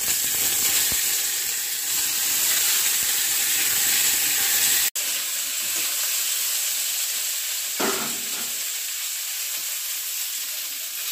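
Potatoes sizzle steadily in hot tempered oil for aloo dum, a continuous close frying hiss that briefly cuts out midway and then resumes, with a short clatter near the end and no talk.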